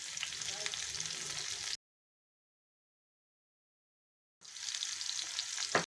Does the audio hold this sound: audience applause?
no